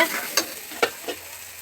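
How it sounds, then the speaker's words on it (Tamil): Ginger-garlic paste sautéing in a pan for chicken biryani, with a few sharp scraping stirs of a spoon over a soft, steady sizzle, close and clear with no voices. "இஞ்சி பூண்டு நல்லா பச்சை வாசனை போய் வதங்கிருச்சு"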